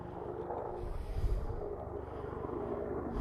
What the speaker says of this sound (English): Sorry, helicopter break. That is an Apache gunship.